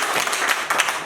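A classroom group claps together in a dense, continuous burst, close and fairly loud, filling the brief moment without speech.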